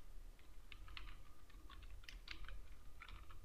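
Light typing on a computer keyboard, scattered soft clicks in irregular bursts, faint under a steady background hiss.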